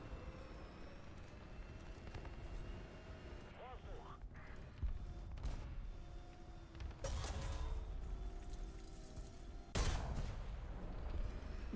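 Several heavy cannon blasts from an M1A1 tank in a video game boom out among rumbling engine noise and scattered gunfire, with a voice talking over the action.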